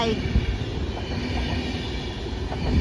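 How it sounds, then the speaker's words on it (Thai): A train rumbles past nearby, a steady heavy low roar with faint rattling of cars on the rails. "ข้างบนก็มีแต่รถไฟ"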